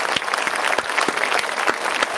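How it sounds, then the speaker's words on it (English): An indoor fireside-chat audience gives a round of applause, with dense, steady clapping from many hands lasting throughout, close and fairly loud, with no talking over it. "let's get a round of applause for Tammy Cody"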